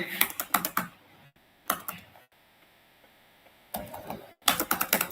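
Typing on a computer keyboard during a CSS coding session, with close, rapid bursts of clicking keystrokes separated by a few quiet pauses.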